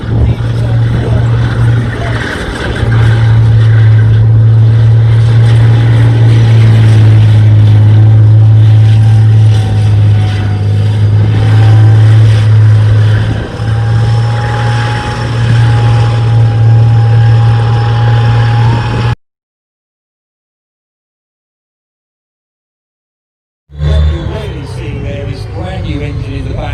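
A fast cross-country tank, an Iranian-ordered British design with a rear-mounted engine and hydrogas suspension, drives at a tank show with a loud, steady low engine drone and rumble, then a silent gap and a brief return of the engine.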